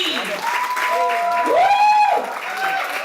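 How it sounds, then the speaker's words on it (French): An audience at a launch event applauds under and around a speaker's voice, with the clapping moderate and steady across the whole short stretch. "Alors, on applaudit, mesdames et messieurs, Bibi."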